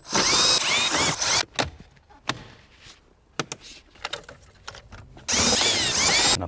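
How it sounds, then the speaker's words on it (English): A power driver whirs loudly while driving screws back into interior trim during reassembly of a Lexus LC500, with a long burst at the start, another near the end, and quiet clicks and handling noises between. "Let's start screwing it in."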